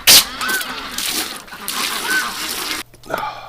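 Ducks in a barn on a winter morning honk and quack in a few scattered calls over a steady low background, with a sharp loud burst at the start and a sudden drop near the end.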